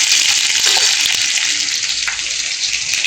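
A pan loudly sizzles with a steady, dense frying hiss while chicken curry is cooked, with occasional faint stirring knocks beneath the continuous spitting oil.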